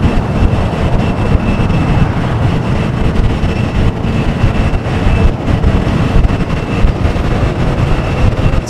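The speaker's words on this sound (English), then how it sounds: "Sounds a little windy up there at the H Hotel." Wind buffets an outdoor microphone on a hotel rooftop near Los Angeles International Airport (LAX), making a loud, continuous rumbling roar that holds steady throughout, with no other distinct sounds.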